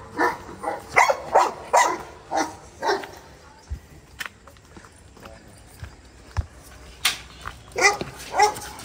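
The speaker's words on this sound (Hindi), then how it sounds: "जर्मन शेफर्ड, ये सारे डॉग्स वगैरह हैं इनके पास" German shepherds and other dogs bark at a zoo in a quick run of sharp barks, then after a pause come scattered knocks and a few more barks. The dogs are moderately close, with faint voices in the background.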